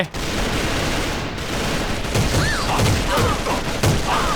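Rapid gunfire from the online shooter AVA, bursts of shots crackling over a steady loud game soundscape, with a few sharper reports near the end.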